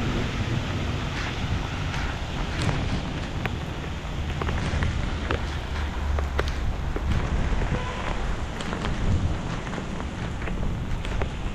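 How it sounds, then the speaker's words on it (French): Heavy storm rain pours down in Sidi Bel Abbès, Algeria, a dense, unbroken roar of water with gusty wind noise and scattered sharper splashes throughout, no voices. "La terre avait besoin de cette pluie."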